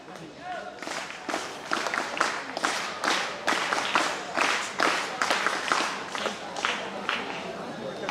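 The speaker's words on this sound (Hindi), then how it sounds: "तालियों की गूंज से भर दो प्रांगण को" Students clap at a school ceremony honouring teachers at a government boys' higher secondary school, a loud rhythmic burst of applause with pulsing claps rising and falling, with voices mixed in.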